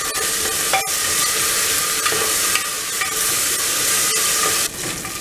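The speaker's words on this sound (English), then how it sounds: "Now add this ginger garlic paste and saute this ginger garlic paste for about a minute." Ginger garlic paste sautéing in a pan for a mutton curry, a steady, close sizzle and frying hiss with occasional stirring scrapes and clicks, continuous and loud throughout.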